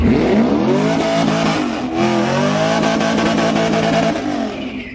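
A Mercedes-AMG car racing on a track in a hard-tire class shootout roars loudly nearby, its engine revving up in pitch, easing briefly, then pulling hard again.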